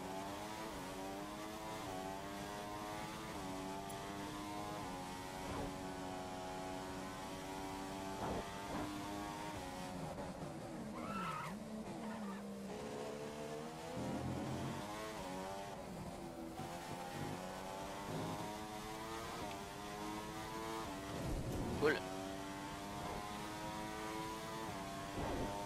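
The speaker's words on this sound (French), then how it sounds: "Alors je vais vous laisser un peu écouter le bruit de cette voiture" Formula 1 car engine in the F1 2015 racing game, a continuous high-pitched whine that rises and falls through gear changes and revs, steady and unbroken with no talking.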